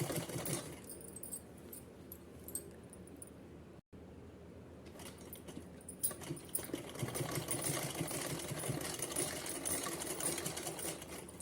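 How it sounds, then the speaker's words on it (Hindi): A sewing machine stitches the right side of fabric over a drawstring channel for a small Kanha ji dress, running in a continuous mechanical whirr that drops out for a brief moment before resuming steadily and loudly. "उल्टी साइड हमने सिल लिया था और डोरी रख के सीधी साइड हम अब सिलाई लगा रहे हैं।"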